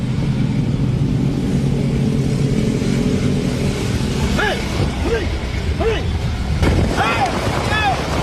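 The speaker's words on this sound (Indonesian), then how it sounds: "Sejumlah pengendara mobil dan sepeda motor termasuk polisi mengejar mobil yang diduga terlibat tabrak lari di jalan depan Pasar Ngemplak" Cars and motorcycles, police among them, chase a suspected hit-and-run car along a busy street in front of a market in Tulungagung, East Java; steady traffic rumble and wind noise run throughout, with a few higher whistle-like tones near the end.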